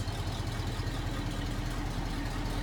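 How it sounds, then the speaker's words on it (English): An old 1968 Ford F250 pickup truck engine idles steadily through a factory-style single exhaust with a low, even rumble, close by and continuous. "single exhaust like it would have been from the factory. Just a little rumble, sounds real nice."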